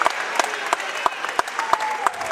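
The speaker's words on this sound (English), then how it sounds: "number 33, Bryn Hanway, getting him a round of applause" Crowd applause in a gym at a high school basketball senior night for a player, a continuous spread of clapping with sharp regular accents, moderately loud and without talk.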